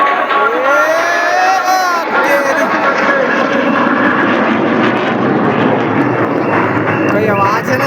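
Loud jet aircraft roar sweeping past overhead at an air show in Nava Raipur, a sustained broadband rush with a crowd murmuring and a voice commentating beneath it.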